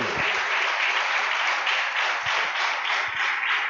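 Church congregation clapping for the Lord, a sustained, moderately loud wash of applause with a few low thumps, no voices over it.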